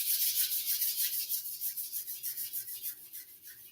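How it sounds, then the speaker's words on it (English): Palms rub briskly together during a Kundalini yoga breathing exercise, a close, bright, rhythmic swishing with about twenty quick even strokes, gradually softening, with no talking. "rubbing the palms together."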